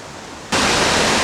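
Rushing water of the Presque Isle River falls in Michigan, rusty-dark with minerals, bursts in as a loud, broadband roar after a quieter half-second and holds steady and close.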